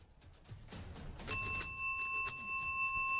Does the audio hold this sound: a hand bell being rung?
yes